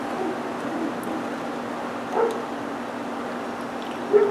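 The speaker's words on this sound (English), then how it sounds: "There's a dog barking outside" A dog barks outdoors at a distance, giving two short, faint yelps about two seconds apart over a steady low hum of a room where a model car is being built.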